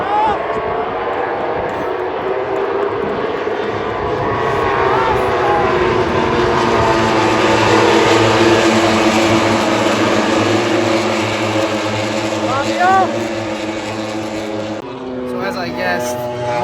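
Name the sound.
MotoGP motorcycles on the warm-up lap at Aragon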